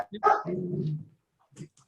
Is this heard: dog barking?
yes